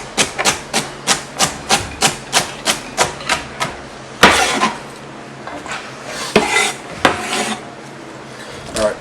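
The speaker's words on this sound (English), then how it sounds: "We're going to chop that up just like we did the carrots." A knife chops vegetables on a cutting board in a quick, even run of about a dozen crisp chops, then a few heavier, irregular knocks follow, close and clear.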